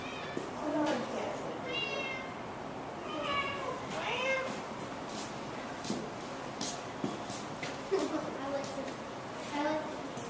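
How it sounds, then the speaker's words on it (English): Orange cat meowing several times, soft drawn-out cries spaced across the stretch amid quiet indoor room noise and people talking. "It's all the orange cat."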